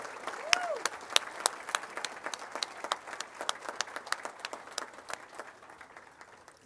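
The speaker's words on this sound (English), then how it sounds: "we would like to give her a round of applause" Banquet audience applauds Coach Connie Garrett at a girls basketball hall of fame event, a scattered, moderately distant patter of clapping hands with individual sharp claps standing out throughout.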